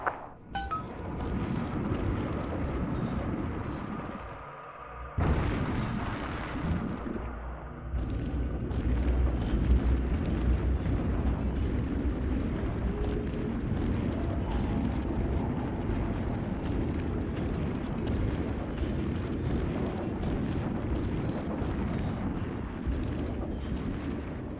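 Heavy booming explosions in Bioshock 2 as bombs go off, a loud blast near the start and another at about five seconds, followed by a sustained deep rumble and roar that continues to the end.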